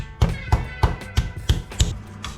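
Six heavy, evenly spaced thuds as a hammer pounds chicken breast under cling film, each a dull, muffled smack with a brief pause between strikes.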